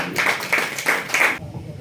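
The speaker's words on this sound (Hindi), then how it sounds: "बजाओ ताली।" An audience claps at a women's day celebration, four short bursts of applause in a quick, uneven rhythm, moderately loud, before the sound drops away.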